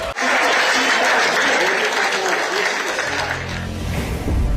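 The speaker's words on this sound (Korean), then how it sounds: "더불어민주당에선 박수와 환호성이 터져 나왔습니다." Loud, sustained applause and cheering erupt from a crowd at the Democratic Party campaign headquarters on presidential election night as exit poll results come in. A voice talks over it, and the clapping thins out near the end.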